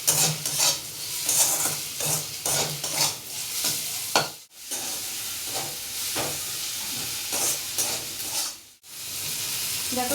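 Spices with a little turmeric being fried for sambar, a loud close sizzle with rhythmic stirring scrapes against the pan, briefly cut by two short silent gaps.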